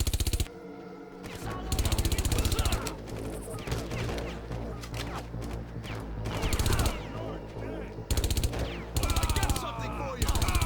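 Video game gunfire from Far Cry comes in loud, repeated automatic bursts separated by short lulls, with rattling shots and smaller impact noises between volleys.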